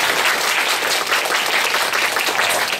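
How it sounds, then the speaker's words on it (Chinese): Audience applause welcoming a lecturer to a weekend public science talk, a dense steady wash of many hands clapping close by for the whole stretch without letup. "我们就以这最热烈的掌声来欢迎我们今天讲师黄老师"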